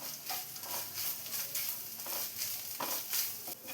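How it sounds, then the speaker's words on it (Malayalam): Grated coconut with curry leaves frying in a pan over a medium flame, a dense steady sizzle broken by repeated spatula stirs and scrapes, with no voices. "തേങ്ങ നന്നായി തന്നെ ഒന്ന് ഫ്രൈ ചെയ്തെടുക്കാം."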